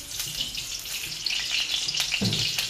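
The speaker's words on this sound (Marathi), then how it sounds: "कढई ऑलरेडीच गरम झाली. त्याच्यात आपण तेल घालून घेऊया थोडंसं" A steady hiss of oil sizzling in a hot wok, with a few soft clicks and a low thump partway through.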